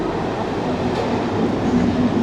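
A crowded passenger train nearby, a continuous loud low rumble and rolling roar with no voices.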